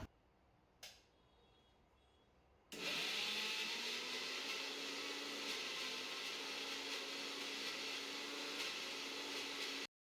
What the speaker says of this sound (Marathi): चला मग आता मिक्सरला फिरून घेऊया.